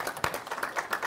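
An audience applauds at a panel event on development co-operation and forests, a steady patter of many hands clapping at moderate level for about a second, with no talk over it.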